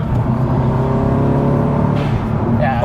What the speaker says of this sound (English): I love that turbo flutter.